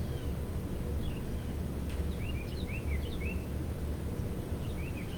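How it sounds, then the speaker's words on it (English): Birds chirp outside in short, scattered bursts, faint and a little distant, over a steady low hum like an air conditioner. "I hear birds outside chirping"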